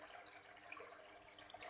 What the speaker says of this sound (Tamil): ஸ்டார்ட் கொடுத்ததும் தண்ணி ஃபில் ஆகுது பாருங்கள்